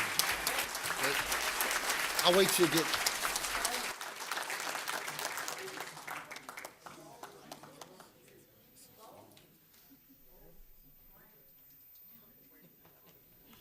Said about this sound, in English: Let's give them a round of applause as they come up here.